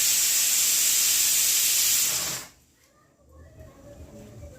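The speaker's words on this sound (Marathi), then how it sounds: "इथं भाताला पण उकळी आली" A pot of rice at a boil gives off a loud, steady steam hiss for a couple of seconds, then it cuts off abruptly, leaving faint quiet kitchen noise.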